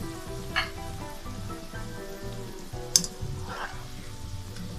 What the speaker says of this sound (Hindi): ये देखिए मटर हमारे फ्राई हो चुके हैं